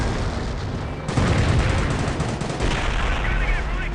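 An explosive charge detonates in Company of Heroes Mobile, a war video game, with dense rolling gunfire and blasts as UK Commando infantry fight. The burst is loud and close and fills the whole stretch, with some talk mixed in.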